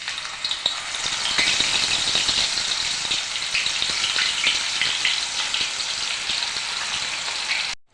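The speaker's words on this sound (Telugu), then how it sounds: "ఇప్పుడు వీటిని హీట్ అవుతున్న ఆయిల్లో ఒక్కొక్కటిగా యాడ్ చేసుకొని డీప్ ఫ్రై చేసుకుందాం." Butterfly chicken pieces deep frying in hot oil, a loud, steady, bright sizzle and crackle with small bubbling pops running throughout, no voices.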